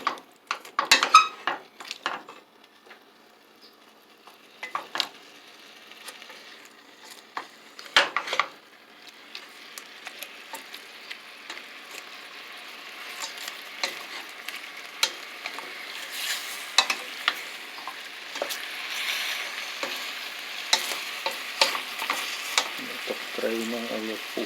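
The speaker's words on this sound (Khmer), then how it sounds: "ចាក់ត្រីចូលទៅបោលត្រីជាមួយស្ករនឹងឲ្យវា" Yellowtail fish is stirred and tossed with sugar in a sizzling pan, with irregular utensil scrapes and clinks against the metal over a soft, steady frying hiss, close up and without speech.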